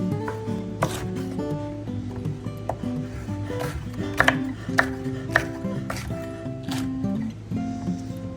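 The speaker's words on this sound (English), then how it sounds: "I'm going to dice these jalapenos up the same size as the onions" A knife dices jalapenos on a cutting board, making a steady series of sharp chopping taps, loud and close, spaced unevenly across several seconds with some kitchen hum underneath.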